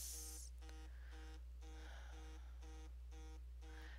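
A mobile phone goes off with a steady pattern of repeated electronic tone bursts, pulsing on and off at a regular rhythm over a constant low hum, fairly faint and with no talking.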